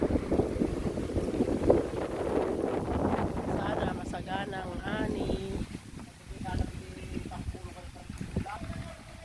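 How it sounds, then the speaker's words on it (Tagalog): Gusty wind buffets the microphone in low rumbling bursts while people talk in the background outdoors. "Mahangin dito, kaya ganyan."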